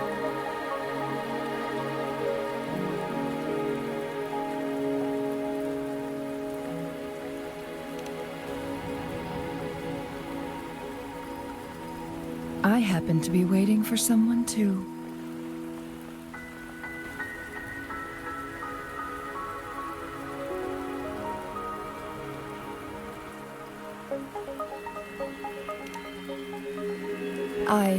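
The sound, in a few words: rain falling in the video game Wuthering Waves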